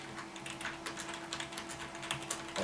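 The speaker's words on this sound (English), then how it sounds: "Let's do a bit of typing." Typing on the keyboard of a Windows 98 computer, a steady run of quick, light key clicks at close range with a faint constant hum behind.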